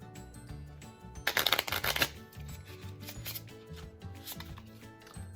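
Theory Eleven Artisans playing card deck being shuffled close up, a dense burst of riffling cards in the middle with softer handling and card shuffles before and after.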